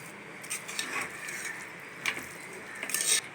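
Cashew nuts fried in ghee tumbled onto cooked little millet coriander rice and mixed in, giving soft clinks of a spoon against a steel vessel and light scraping stirs at a steady, unhurried pace, close and quiet with no talk.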